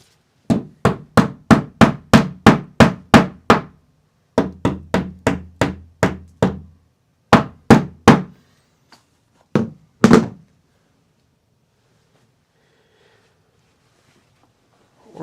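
Repeated hammer blows on a wooden door: two quick runs of about a dozen evenly spaced sharp thunks, then a few scattered knocks and a final louder strike, close and loud, followed by quiet.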